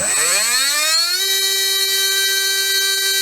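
A 17.5T brushless slot car motor winds up from low to a steady high-pitched whine within about a second, then holds a loud, even tone with bright overtones, alone with no talking.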